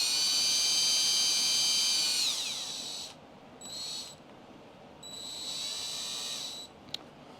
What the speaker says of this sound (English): So I'm going to go ahead and drill it